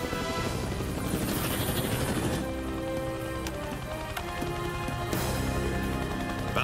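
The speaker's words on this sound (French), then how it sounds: "Quel est l'inconscient qui a autorisé des hélicos à survoler la réserve?" Cartoon helicopters fly low over a wolf reserve, a loud, steady rotor drone that carries through the whole stretch, with music and action effects layered over it and no voices.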